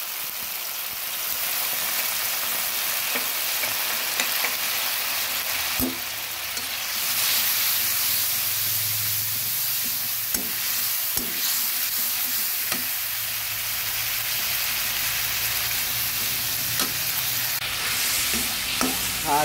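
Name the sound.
spices frying and being stirred in a pan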